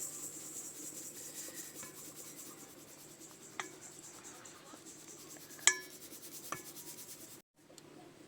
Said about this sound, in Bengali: আর এরকম আমি একটা টুকনি নিয়েছি, টুকে নেব।